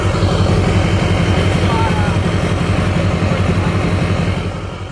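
Deep, steady idle rumble from the exhaust of an old, rusty 6.6 LBZ Duramax diesel truck with a 5-inch tip, close and continuous, easing off slightly at the end.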